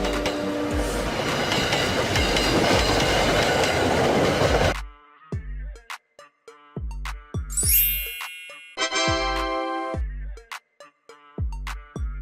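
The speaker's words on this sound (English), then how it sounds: "Passenger train." A passenger train rumbles past loudly at first, then gives way to steady rhythmic clickety-clack of wheels over rail joints with a brief high wheel squeal and ringing tones.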